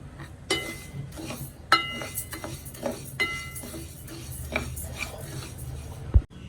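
A spoon stirs washed, dried rice dry-roasting in a pan, giving sparse scraping strokes and small metallic clinks with a few louder knocks, close and quiet with no voices.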